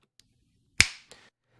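A single sharp finger snap used as an audio sync marker, crisp and close, with a short decaying tail and a faint second tick just after, against near silence.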